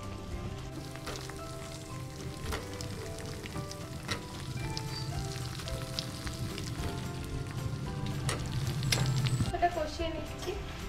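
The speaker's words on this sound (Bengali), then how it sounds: "চিকেনগুলো দিয়ে দিচ্ছি।" Chicken pieces sizzle and fry in a pan in a home kitchen, a steady crackling hiss throughout that grows slightly louder toward the end, with faint background clatter.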